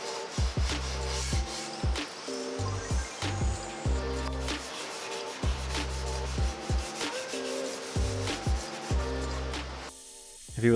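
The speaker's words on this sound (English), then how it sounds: "I mixed Rubio Monocoat Pure with the accelerator and applied it to the pieces with a Scotch-Brite pad." A Scotch-Brite pad rubs Rubio Monocoat Pure finish mixed with accelerator onto wooden puzzle-table pieces, making close, rhythmic scrubbing strokes in repeated bursts with short pauses, and nobody speaks.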